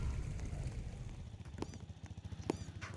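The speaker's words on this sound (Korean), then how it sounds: "잠깐만, 이 위에 발소리!" Heavy footsteps from above in the Roblox Rainbow Friends Chapter 2 video game thump in a rapid, regular rhythm, with a few sharp clacks over a low rumble.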